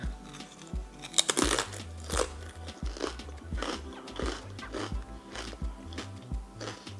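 A homemade crab rangoon wonton is bitten and chewed up close: sharp crunches followed by quieter irregular chewing and crinkly mouth sounds over several seconds, with no talking.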